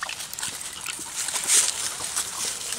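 An eight-year-old dog, nearly nine, resting on a hike makes soft, thin whimpers in short bursts, near and faint, over a light background hiss.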